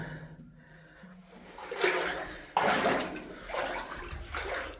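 Splashing and sloshing of someone wading through shallow water inside a low, cramped mine adit, close and steady with surges of disturbed water and heavy breathing.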